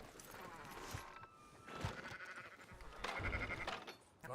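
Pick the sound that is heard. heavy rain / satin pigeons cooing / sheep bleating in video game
sheep bleating in video game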